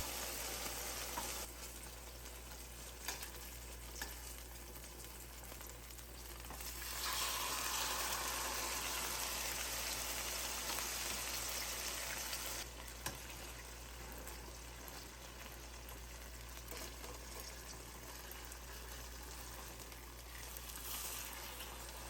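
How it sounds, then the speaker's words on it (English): Seitan steaks fry in olive oil with a steady, soft sizzle and constant crackling hiss, rising briefly louder for several seconds in the middle, with faint stirring clinks. "Remove the seitan from the marinade and place it in the frying pan."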